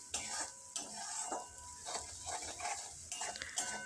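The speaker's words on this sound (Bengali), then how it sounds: "সামান্য একটু জল দিয়ে মশলাটা ভালোভাবে কষে নেব।" A spice paste with chilli powder and a splash of water is fried and stirred for a rohu fish curry, with continuous sizzling broken by repeated scraping strokes of a spatula against the pan and no voices.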